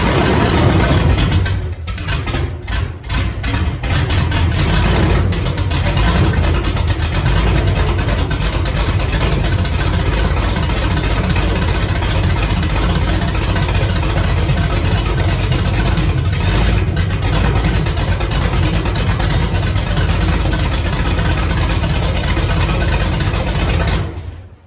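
A newly installed 6.2L engine runs steadily in a C10 truck, a loud, continuous idle rumble with mechanical clatter throughout and a brief stumble near the start.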